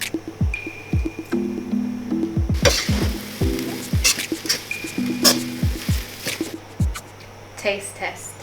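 Prawn fried rice sizzles and crackles in a hot pan as it is stirred and tossed, with steady frying hiss under scraping strokes while people talk over the cooking.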